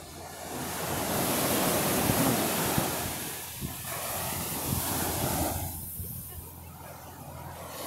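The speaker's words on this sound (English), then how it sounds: "Yeah, very nice to watch the waves." Ocean waves at a beach give a loud, continuous rushing roar of surf that surges for several seconds and then eases and thins out toward the end.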